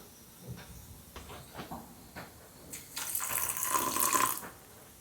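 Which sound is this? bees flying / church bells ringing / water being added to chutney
water being added to chutney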